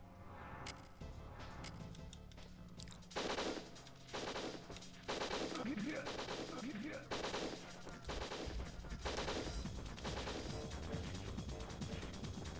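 Rapid bursts of gunfire from the video game Winback: Covert Operations, repeated volleys and single shots crackling loudly over a steady game soundtrack, with brief pauses between clusters.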